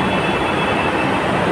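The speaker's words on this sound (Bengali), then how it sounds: "এখন এটা আপাতত এই ট্রেনটা কবি সুভাষ থেকে আসছে" A Kolkata metro train coming in from Kavi Subhash (Garia) station roars loudly and close, a dense continuous rumble of wheels and carriages with a high whine above it.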